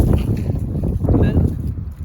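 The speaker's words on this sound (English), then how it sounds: "It is so windy today." Gusty wind buffets a microphone outdoors in a garden, making a loud, continuous low rumble with bursts of flutter.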